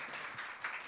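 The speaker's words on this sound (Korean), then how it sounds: "우리 권노키 대표님 나오실 때 한번 큰 박수로 환영해 주시면 감사하겠습니다" Audience at a church seminar applauds to welcome a guest speaker to the stage, a short burst of steady, dense clapping throughout.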